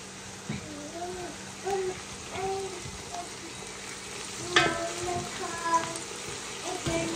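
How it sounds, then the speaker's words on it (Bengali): Onions fry in oil in a pot, sizzling steadily up close while a spoon stirs and scrapes them now and then, with people talking and other household sounds faintly in the background. "পেঁয়াজগুলো একটু হালকা ব্রাউন করে ভেজে নিব।"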